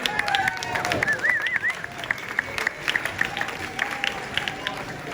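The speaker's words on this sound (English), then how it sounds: "Give them a round of applause." An audience at a quantum technology gala applauds in a steady wash of clapping, with a voice and a faint whistling tone over it.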